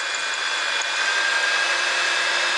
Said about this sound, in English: you'll see it trim the outer edge of the case